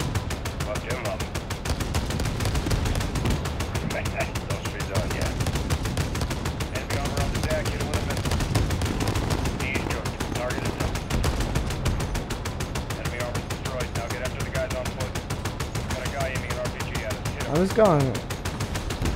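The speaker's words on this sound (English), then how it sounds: "Why are you shooting at me, brother?" Gunfire in the video game Call of Duty: Modern Warfare campaign, a dense continuous rattle of rapid automatic shots throughout, with a brief spoken phrase near the start.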